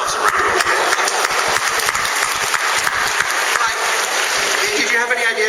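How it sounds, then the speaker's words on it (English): An audience at a talk about the film The Princess Bride gives itself a loud round of applause, with sustained close clapping and a few cheers across the whole stretch, the clapping thinning slightly at the end. "give yourselves a round of applause"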